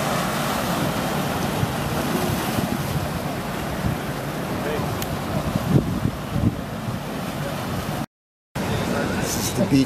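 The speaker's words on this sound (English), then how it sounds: "This is the beach on the east side." Surf washing onto a beach on the east side of Cozumel, a steady roar of waves mixed with heavy wind buffeting the microphone, continuous apart from a brief dropout near the end.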